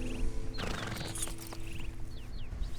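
Horses in the Red Dead video game give a whinny and snort over a steady outdoor ambience, with a few faint bird calls toward the end and no speech.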